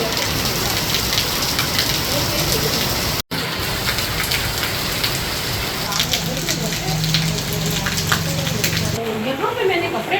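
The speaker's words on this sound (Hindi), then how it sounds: "तो चलिए बारिश तो आ गई है" Steady rain pouring down, a dense continuous hiss of drops on surfaces, loud and close throughout with a brief dropout partway through.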